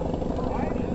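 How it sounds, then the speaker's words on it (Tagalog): A helicopter flies nearby, its steady rotor drone filling the whole second as a continuous loud low rumble with a faint choppy pulse, with no pauses or breaks in it. "pala may helicopter"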